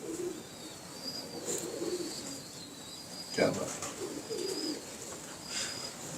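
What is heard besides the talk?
pigeons cooing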